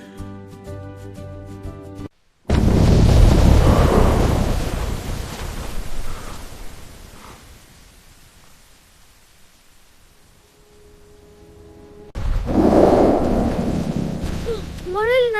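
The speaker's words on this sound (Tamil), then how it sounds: "மழை பயமா இருக்கு." Loud thunderstorm in a children's animated story: a heavy rumbling roar of thunder and rain, then a quieter stretch of steady rain, then another strong burst of thunder near the end.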